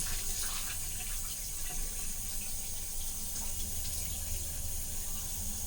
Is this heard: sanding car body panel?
no